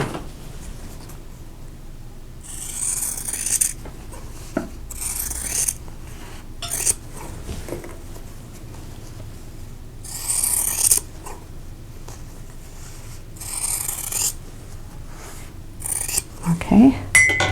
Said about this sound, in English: Now I'm going to cut on the drawn line.